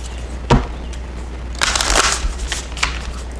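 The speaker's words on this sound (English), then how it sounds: "it's good to give it a little shuffle again" A deck of Moonology oracle cards being shuffled up close, with a sharp riffle at first, then a longer burst of papery card shuffling and a final flick.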